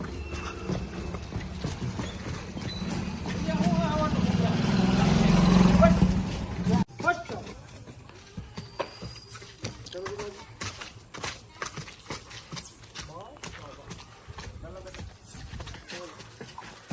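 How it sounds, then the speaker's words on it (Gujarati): A mare's hooves clip-clop steadily on hard ground at a walking pace, fairly close, with a rush of noise and talk at the start that fades out. "તો મિત્રો જોવો આપણે ઊભી કરી ઘોડી કેવી હાલે"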